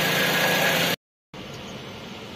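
A radiator cooling fan motor in a Toyota Vios with a cracked radiator whirs as a steady, dense hum near the mic, then cuts out completely for a fraction of a second before resuming at a slightly lower level.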